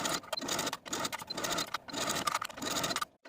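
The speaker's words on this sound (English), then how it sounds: "Now I'm going to take this to my sewing machine and sew all around the neckline with a 3/8 inch seam allowance." A domestic sewing machine stitches a 3/8 inch seam around a garment neckline, a steady mechanical whirring and clatter running near and continuous with a few brief pauses, no talking.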